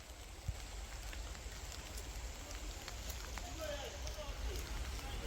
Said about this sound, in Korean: 지금 갑자기 비가 막 내리기 시작합니다